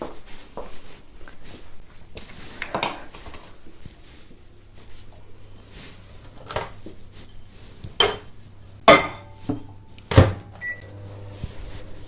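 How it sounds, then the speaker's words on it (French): A microwave oven hums low while melting chocolate pieces in a home kitchen, with clinks of dishes and cutlery and a few sharp knocks over the steady drone, and no talking. "je vais mettre ça au micro-ondes 30 secondes"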